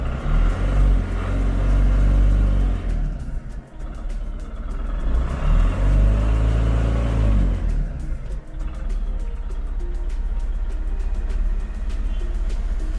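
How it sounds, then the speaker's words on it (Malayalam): A 2023 Tata Ace Gold diesel mini truck idles with a low throbbing rumble, then revs up and settles twice, the engine loud and close throughout. "ഇതാണ് വണ്ടി സ്റ്റാർട്ട് ചെയ്തിട്ടുള്ള സൗണ്ട്"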